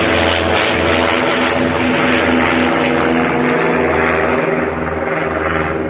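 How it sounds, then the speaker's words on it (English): A propeller plane drones loudly overhead, its engine a steady, throbbing buzz that holds for several seconds without letup. "A World War II plane, that's what it looks like to me. Sounds like to me."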